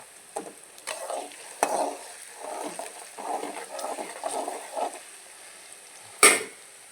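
Ginger and green chillies fry in hot oil for a Kerala-style lemon curry, a soft steady sizzle broken by a few sharp stirring scrapes and one louder clank near the end, with no talking.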